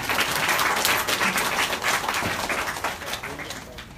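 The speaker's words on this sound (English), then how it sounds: "Please clap for the panelists." Forum audience applauding the panelists, a burst of many hands clapping that gradually thins and fades, with voices talking beneath it.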